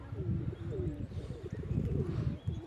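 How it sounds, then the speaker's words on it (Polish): Pigeons coo nearby in soft, throaty, repeated rolling calls, several birds overlapping with a faint background murmur. "Przez ten czas gołębie sobie poklepią, polatają."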